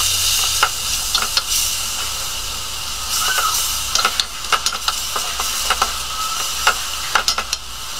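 Coconut milk stirred in a pan while it cooks for Bicol Express with baby octopus, a soft steady sizzle and hiss under repeated scraping clicks of a spoon, close and alone.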